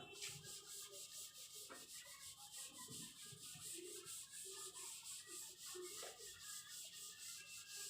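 Chalk or board writing being rubbed out with a duster in a classroom, quiet repeated scrubbing strokes under a steady high hiss, with no talking.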